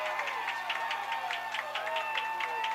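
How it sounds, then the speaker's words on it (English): Falcon fans cheering at a 2008 high school football game at Fort Campbell, faint and distant, a steady crowd roar with rhythmic bursts that swell and fade. "It's the Falcon fans cheering again."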